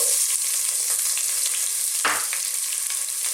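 Onions frying in a pan for an Indian chicken and mushroom curry with fenugreek, a constant bright sizzle with a brief louder crackle and stir midway, close and steady, no talking.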